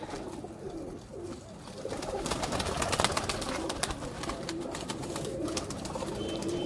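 Ali wale pigeons from Sialkot coo softly in a loft or yard, with fluttering and rustling under quiet, continuous ambient noise.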